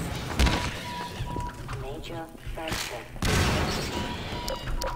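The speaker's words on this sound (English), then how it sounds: "I'll let that next explosion clear the way for me." Explosions and gunfire in the video game Half-Life 2 during a driving segment, a sharp boom early, then a second heavy blast with crackling debris near the midpoint, with someone talking over much of it.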